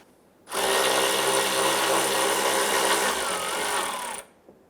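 A power tool, likely an impact wrench, runs steadily for about four seconds as it spins off the upper strut nut on a 2005–2010 Chrysler 300, close and loud with a sharp start and stop.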